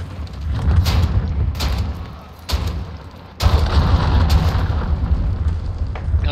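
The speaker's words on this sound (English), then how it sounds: "That was my cruise missile blowing up because I couldn't find no one over there." A cruise missile explodes in Call of Duty Modern Warfare: loud, rumbling booms and blasts hit in repeated heavy waves, ending in a sustained roar.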